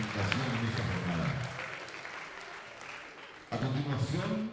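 Audience applause at a Spanish-language event session: steady, dense clapping fills the room, briefly thins, then swells again near the end, while a presenter's voice speaks over it.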